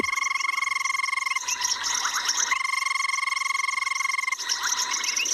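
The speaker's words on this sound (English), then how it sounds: "there's 5 different species of frog that's calling here that we can hear" Several frog species call together at sunset on safari, banded rubber frog among them: a dense, continuous chorus of steady high trills and pulsing croaks, loud and close, with a brief shift in the pattern partway through.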